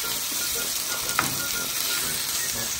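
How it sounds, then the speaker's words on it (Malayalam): Chicken, onion, garlic and diced red, yellow and green peppers fry for a Spanish-style seafood paella, giving a steady close sizzle throughout with one brief clink of a utensil partway. "നമുക്കിനി ഇതിലേക്ക് ഡൈസ് ചെയ്ത് വെച്ചിരിക്കുന്ന പെപ്പർ ഇട്ട് കൊടുക്കാം"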